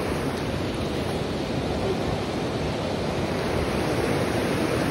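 River water rushes in a steady broadband roar at close range, continuous and even with no pauses, with no voices over it.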